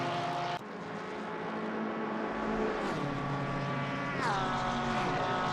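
A Porsche race car screaming around Mount Panorama in a racing video game, with a loud, sustained high-revving engine whine, sharp gear changes and pitch drops as it shifts, close and continuous, with no talking.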